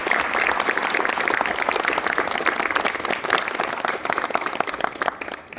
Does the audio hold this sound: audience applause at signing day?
yes